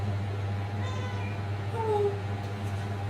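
A pet cat meows once or twice indoors during a quiet study session, a short rising-and-falling cry over a steady electrical hum.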